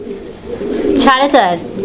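Fancy pigeons in a small farm loft coo close by, a couple of soft rolling calls rising over background chatter and low murmuring voices.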